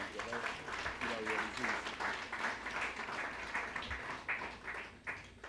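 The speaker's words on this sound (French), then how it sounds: "je vous invite vraiment à applaudir le directeur général et à le remercier pour la qualité du travail" An audience at a ministry of commerce and industry event applauds the departing director general, steady crowd clapping heard at moderate distance with voices faintly underneath.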